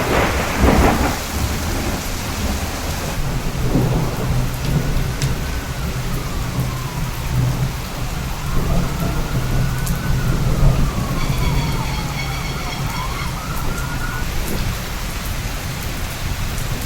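Steady heavy rain from a tropical storm with rolling thunder throughout, captured in wide stereo on a LUMIX DMW-DMS1 shotgun microphone; a faint wavering siren rises and falls in the distance partway through.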